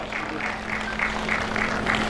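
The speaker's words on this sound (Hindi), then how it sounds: "जोरदार तालियों से दिनेश गुरु जी का स्वागत करें।" An audience at an astro-spiritual fair applauding to welcome a speaker onto the stage, a steady wash of clapping with a faint hum underneath.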